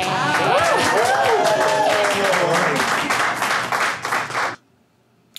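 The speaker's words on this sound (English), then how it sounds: "oh, she's clapping." Sustained applause from a TV-show audience, dense and loud, with a woman clapping among the crowd while voices talk and cheer over it, then cutting off abruptly into near silence.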